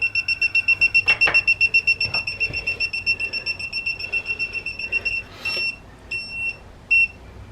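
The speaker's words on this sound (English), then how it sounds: "as you can see, it's going off, detecting that leak." A propane gas leak detector, with gas still in the area, sounds a rapid, steady series of high electronic beeps, then breaks into shorter bursts as it cycles. It is close and loud over faint background hiss.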